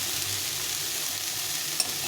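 Boiled chickpeas stir-fried in a pan for an evening chickpea chaat, giving a steady close hiss of frying with soft scraping from stirring and one brief sharper clink near the end.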